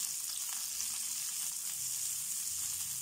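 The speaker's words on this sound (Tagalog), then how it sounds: "Ngayon po, ilagay na po natin ang ating sibuyas. Sibuyas na puti po ang aking gamit." Sliced white onion frying in a pan for ginataang gulay, a steady, even sizzle and hiss held at moderate level, close and continuous with no talk.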